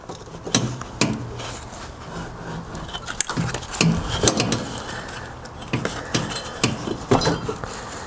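A spring-loaded belt is pulled off the deck pulley of a Ferris zero-turn mower, making close metallic clanks, rattles and knocks at an uneven rhythm over a low background hum, with no talking.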